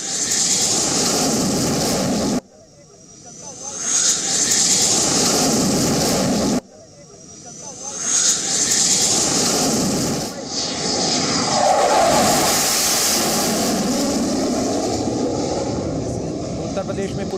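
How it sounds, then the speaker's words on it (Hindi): Indian Air Force Mirage 2000 fighter jet roaring overhead during flights over the Purvanchal Expressway, a loud sustained broadband jet rumble that swells and fades with brief drops, with no talk. "उड़ान भरता हुआ ये भारतीय वायुसेना का मिराज 2000 फाइटर एयरजेट।"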